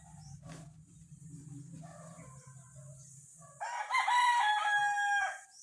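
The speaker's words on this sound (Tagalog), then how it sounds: "itong manok na to." A rooster crows once, loud and drawn-out, following a stretch of quiet low murmuring in the background.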